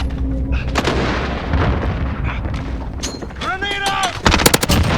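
Call of Duty gunfire crackles in a dense, loud barrage of shots and booms, with a burst of rapid automatic fire near the end and voices faintly in the mix.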